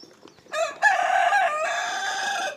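A rooster crows loudly among chickens on a farm in the morning: a few soft clucks, then one long, drawn-out crow that rings out close and clear with nothing else over it.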